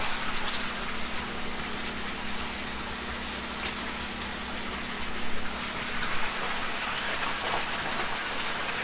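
A pond filter pump running beside a pond with a glass viewing window, water splashing and gushing continuously like heavy rain, loud and steady throughout with a constant low hum underneath and no voices.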